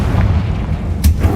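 A Confringo fire spell blasting in the Hogwarts Legacy video game lands as a short, loud boom over a low rumbling bed, with a sharper burst near the end.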